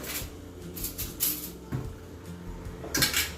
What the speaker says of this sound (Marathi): चमचा ठेवते त्याच्यामध्ये, चमचा.